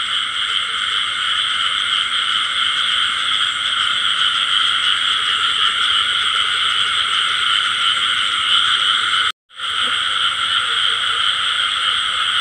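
A dense chorus of field frogs croaks continuously and loudly in a paddy field, the steady calling cut by one brief silent gap near the end; no talking.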